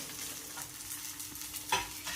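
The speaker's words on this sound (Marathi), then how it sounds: "तर हे इकडं भाजायला लागलं." Vegetables fry in hot oil in a kadai with a steady low sizzle, broken near the end by a brief scrape of stirring, no voices.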